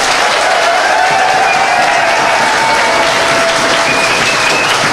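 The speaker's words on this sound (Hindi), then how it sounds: "ताली बजाइए सर के लिए।" An audience applauds a teacher, a dense, loud, sustained wash of clapping from many hands filling the room evenly throughout, with a few faint voices underneath.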